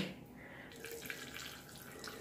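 Liquid gushing quickly from a glass burette with its stopcock turned wide open, a steady close-up rush of flowing water with no talk.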